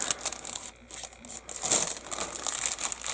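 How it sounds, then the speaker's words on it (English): Resealable plastic bag holding model kit dozer parts crinkling close by, a few soft rustles followed by denser, louder crackling toward the end. "these bags aren't as crinkly as some other people's bags. They are resealable."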